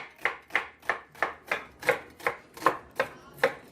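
A knife chops onion on a cutting board in nine even, crisp strokes. Each stroke lands about every third of a second, close and clear with no talking.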